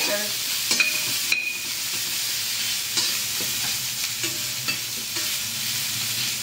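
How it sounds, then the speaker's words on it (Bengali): Chopped onions fry in oil with bay leaf and dried chilli, a loud continuous sizzle close by with repeated stirring scrapes and occasional clinks of a spatula on the pan. "এটা ভাজা হোক পেঁয়াজটা, তারপরে আলু দিয়ে দেবো"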